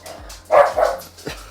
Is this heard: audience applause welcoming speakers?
no